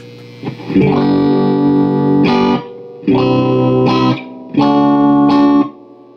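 An electric guitar runs through a cranked Lafayette/Univox U65RN solid-state amp, loud and close. It plays three sustained distorted chords, each ringing about a second and cut off, with short gaps between.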